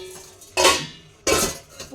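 Old steel kitchen utensils, including a small new steel wok and a child's milk bowl, clink and rattle as they are handled in a store room, with two louder bursts of metallic clatter over a low background.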